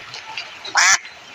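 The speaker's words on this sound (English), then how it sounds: "Duck." A duck lets out one short, loud nasal quack, close up, against a faint quiet background.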